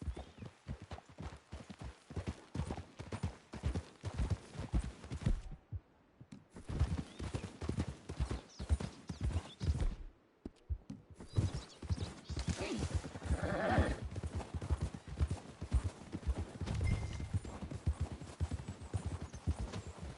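Horse hooves in the video game Red Dead clip-clop steadily and close by, a rapid repeating clatter with a couple of brief pauses, joined later by a horse's snort.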